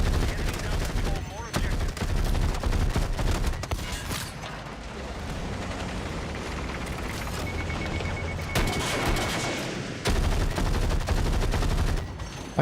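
Rapid DMR rifle volleys in a video game, loud repeated cracking shots in bursts with a quieter lull in the middle, a voice talking over the action.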